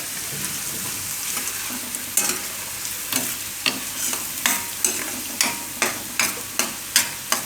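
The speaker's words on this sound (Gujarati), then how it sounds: "થોડીક વાર ગરમ તેલમાં શેકી લેવાનું લસણને." Garlic sizzling as it fries in hot oil for garlic raita, a steady crackle broken by a regular run of sharp stirring scrapes that grow louder and more rhythmic toward the end, close and with no talk.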